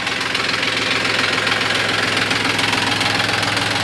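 A Mahindra 265 tractor engine in good condition idling, a steady, loud, close rumble with an even knocking beat and no talk.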